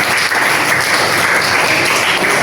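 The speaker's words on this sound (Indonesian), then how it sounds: "Tepuk tangan dulu untuk Azkia" Class applauding a student named Azkia after her summary, loud dense clapping from many hands filling the whole short moment without pause.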